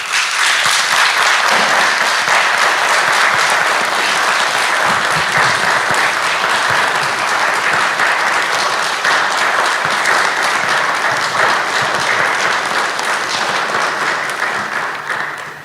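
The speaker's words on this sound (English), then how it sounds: "let's give them a round of applause" Graduation ceremony audience for Economic and Management Sciences graduates gives a long, steady round of applause, dense clapping from a large crowd filling the hall for about fifteen seconds before fading.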